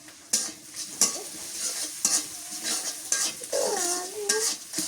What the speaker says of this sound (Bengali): নুন দিয়া রসুন আর মরিচটা ভালো করে ভেজে নিই।